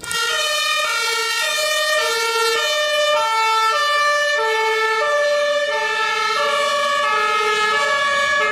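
A toy ambulance's two-tone electronic siren alternates steadily between high and low pitches, loud and continuous with a thin, toylike timbre and no talking.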